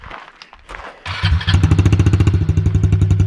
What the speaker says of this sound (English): Fire it up, Tyler.